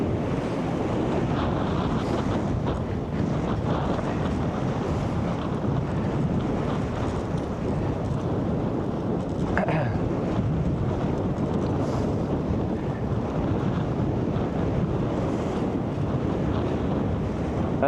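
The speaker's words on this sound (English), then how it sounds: "Bit of a headwind though." A headwind roaring steadily across the microphone while cycling on an open road in Arctic Finland, giving a continuous loud, rumbling rush with no breaks for the whole stretch.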